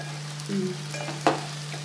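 Sliced okra (bendakaya) frying in a pan on a stove, a soft steady sizzle broken by a couple of light stirring scrapes, with a steady hum underneath and no talking.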